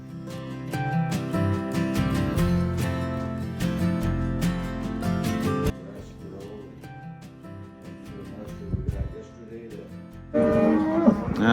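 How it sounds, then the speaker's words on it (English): Cattle on a spring cattle drive lowing repeatedly, several long moos from cows and calves overlapping at moderate distance, with a louder close call near the end and no talk. "Our work this morning is going to be working on these cows, the calves."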